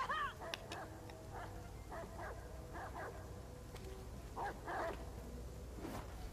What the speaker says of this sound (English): I ain't scared of these dogs though.